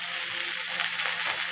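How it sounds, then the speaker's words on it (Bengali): Cauliflower frying in a pan in a home kitchen gives a steady, dense sizzle and crackle of hot oil with no voices. "ফুলকপিটাকে আগে আমি ভেজে নেব"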